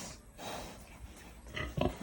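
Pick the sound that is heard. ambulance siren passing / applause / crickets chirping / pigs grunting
pigs grunting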